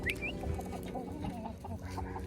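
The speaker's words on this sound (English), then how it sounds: "We got some chickens." Chickens on a farm cluck softly and steadily nearby, a low murmuring of fowl with a brief higher call at the start, fairly quiet overall with no talking.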